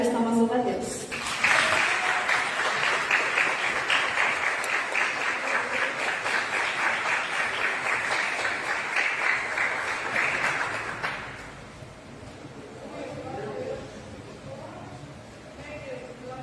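Church congregation applauding at a youth group service, a dense sustained burst of clapping lasting about ten seconds before fading to quieter murmuring and voices.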